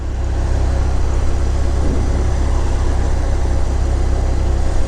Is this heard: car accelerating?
yes